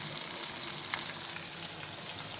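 Pointed gourd (potol) fries in a pan with a steady, even sizzle throughout, a close hiss of hot oil with faint crackles and no voices.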